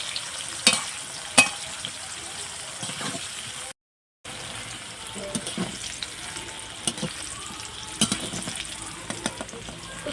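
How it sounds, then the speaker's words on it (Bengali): Kakrol (spiny gourd) frying in a pan, a constant close oil sizzle with sharp spatter pops and occasional stirring scrapes, briefly cut to silence midway. "কাঁকরোলগুলো লালচে করে ভেজে নেব।"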